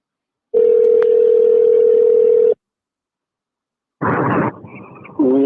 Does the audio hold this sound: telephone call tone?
yes